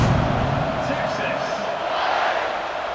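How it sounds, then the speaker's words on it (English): A stadium crowd buzzing after a score in the video game College Football 26, a broad roaring murmur under loud commentary. "this crowd is buzzing after that last score"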